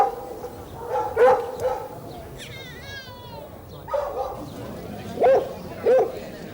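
Foxhounds of a Galway hunt pack bark and yelp in short separate bursts, several loud close barks spaced a second or so apart, with a whining whimper between them.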